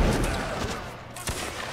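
Musket volleys crack out during a Napoleonic line battle in Mount & Blade: Warband. A burst of shots sounds at the start and a sharp single report follows about a second later, all at moderate level over a noisy background.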